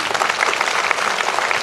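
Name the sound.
audience applause at a school annual function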